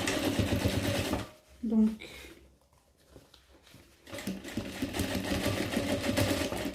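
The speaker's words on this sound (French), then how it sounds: "je vous conseille de coudre ça avec le point le plus large de votre machine" Sewing machine running steadily while stitching fabric for a bike bag, a fast continuous whir that stops briefly for a short spoken word and quiet handling, then resumes at full speed.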